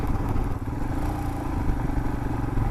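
A vehicle rolls slowly up a mountain ghat road near Taptapani in hilly country, its low engine droning steadily with faint rattles and road rumble, close and continuous, no voices.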